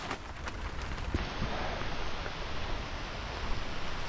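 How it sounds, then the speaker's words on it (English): Steady rain falls on jungle trees, a dense continuous hiss of drops on leaves that stays even and close throughout, with no voices. "That rain is coming down. Sounds amazing on the trees."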